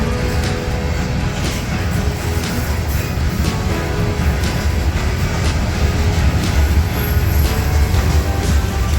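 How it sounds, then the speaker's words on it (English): Freight train hauled by a Jeep locomotive, likely a Jeep 60, rolling past with old Union Pacific hoppers in Rochelle; a steady, loud rumble and clatter of wagons continues throughout with no talk. "I think it's the first time I've ever seen a Jeep pull through here on our own power, pulling an actual train"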